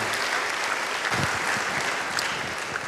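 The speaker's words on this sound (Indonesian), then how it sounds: "Beri tepuk tangan yang baik bagi dia" A church congregation applauds steadily, a dense wash of clapping that holds at an even level throughout, with no talking over it.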